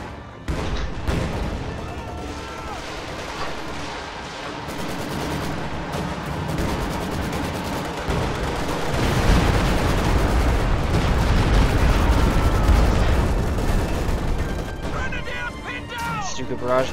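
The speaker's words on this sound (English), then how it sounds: "Barrage lands nicely once again" Artillery barrage and rapid gunfire in a real-time strategy game battle, a dense, continuous roar of overlapping blasts and shots that swells louder midway, with a commentator talking over it.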